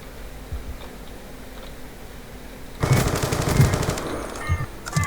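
Rapid automatic gunfire from the video game Black Ops 2 bursts in loud and close after about three seconds of quiet, a dense rattling stream of shots with a few sharper cracks.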